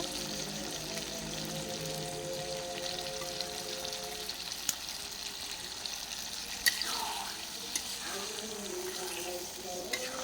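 Pieces of meat sizzle steadily in a hot pan of spice paste, a close, continuous frying hiss broken by a few sharp spatters and the occasional scrape of stirring.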